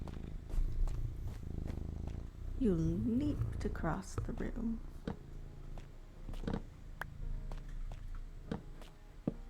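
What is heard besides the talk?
cat purring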